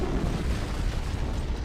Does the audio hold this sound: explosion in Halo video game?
yes